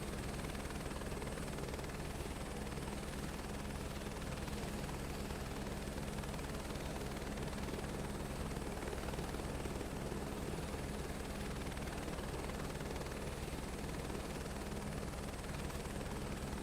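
Steady, dense drone of a Saab 340B's twin turboprop engines in Microsoft Flight Simulator 2024, at Anchorage before a flight to Kodiak, Alaska; a continuous broadband roar with a low hum, constant in level throughout.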